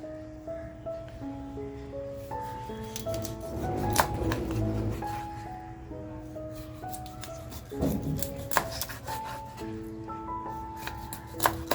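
Knife slicing through rawas, Indian salmon, on a board, with repeated close cutting and scraping strokes in uneven rhythm over a background of steady tonal music, no voices.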